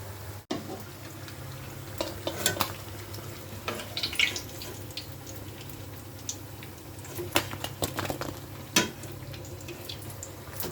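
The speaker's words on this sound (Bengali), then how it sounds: "এবারে ডুবো তেলে ভাজবো, একটা করে দিলেই ভালো হয়" Salty cake batter deep-frying in oil makes a faint, continuous bubbling hiss scattered with small pops and the odd utensil clink, with no voices.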